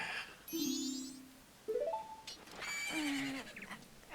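A horse in The Legend of Zelda: Majora's Mask whinnies twice in quick succession, clear and close with no voices over it.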